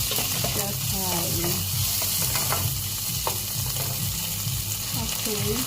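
Chicken stir fried in olive oil, a steady close hiss of sizzling with scraping stir sounds and brief clinks, a voice speaking faintly at times underneath.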